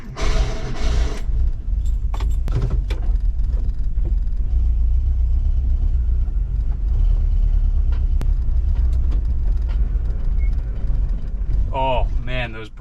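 A VW Bus engine that has sat for 20 years runs at a low, rough idle. It keeps up a continuous rumbling drone while the transmission is put into gear. Someone talks over it, and brief clanks and jangles come near the start and end.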